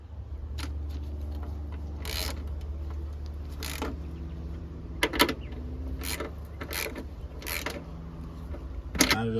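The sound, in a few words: tightening strut bolts on Cadillac ATS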